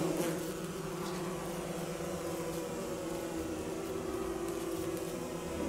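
Bee buzzing in Don't Starve, a steady, close insect drone with a constant hum holding evenly throughout, alone without talk.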